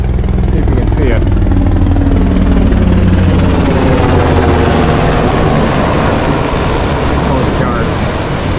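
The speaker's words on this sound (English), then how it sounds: "Got a helo coming overboard." A Coast Guard helicopter's rotor thumps loudly and continuously as it flies close overhead at a beach, a heavy rhythmic chop filling the whole stretch.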